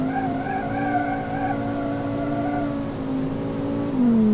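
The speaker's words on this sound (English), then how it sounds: "I want the tires to burn." Tires squeal steadily on a five-cylinder turbo front-wheel-drive hot hatch in the BeamNG driving game, a loud, sustained tonal screech lasting about four seconds under engine noise, briefly dipping in pitch near the end.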